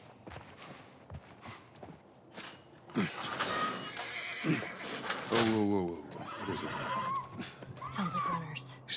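A horse whinnies loudly with a rising, quavering cry amid clip-clop hooves, snorts and movement, while voices talk in the scene.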